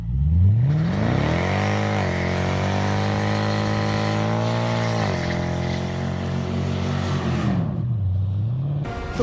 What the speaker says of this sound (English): AMG gone in the wind. Quick little burnout.